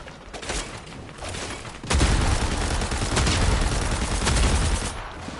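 Dense, sustained gunfire in the video game Fortnite, with shotgun and automatic rifle shots; a lighter burst of shots comes first, then heavy continuous firing fills the rest, loud and close.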